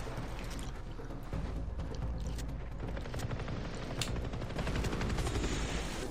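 Dense helicopter rotor thrum fills the scene in Far Cry 3, a loud continuous chopping roar mixed with mechanical clatter, steady and close with no talking.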